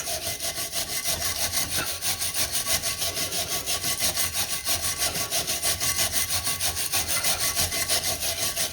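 Corroded battery terminals on a 2008 Pontiac Torrent are scrubbed clean in rapid, even back-and-forth strokes. The rasping sound is close and steady, and no one talks over it.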